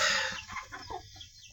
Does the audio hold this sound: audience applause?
no